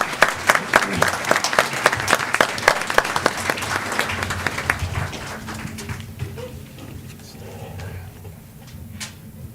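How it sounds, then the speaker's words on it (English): An audience at a school board of education meeting clapping for an award recipient, loud rapid applause that gradually thins and dies away into scattered claps and quiet room noise. "let's give him a big round of applause"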